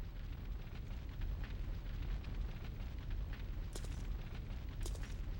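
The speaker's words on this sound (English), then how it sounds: "That place is on fire." In the Resident Evil Code Veronica X game, fire burns as a low, rumbling roar with soft crackles, constant and fairly quiet in the background, with no one talking.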